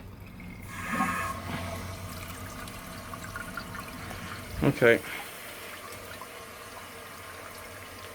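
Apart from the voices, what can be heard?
1957 Universal Rundle toilet tank refilling with water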